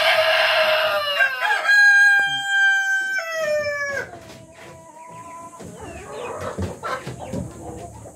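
Caged Kabir breeder chickens, five months old, crow loudly and repeatedly close by, followed by scattered clucking and cackling with faint voices in the background.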